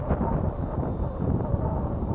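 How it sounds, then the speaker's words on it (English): Wind buffeting the microphone outdoors while an RC Sky Surfer plane flies, a steady loud low rumble of gusts with no clear speech. "Wow, it's really breezy up there"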